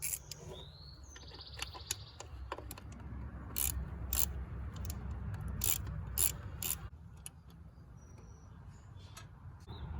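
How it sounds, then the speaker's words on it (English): Ratchet clicking as T20 Torx bolts are backed out of a 1997 Jeep Cherokee throttle body sensor, quick bursts of close, crisp pawl clicks in irregular runs against a quiet room background. "I'm just going to go ahead and take those bolts off."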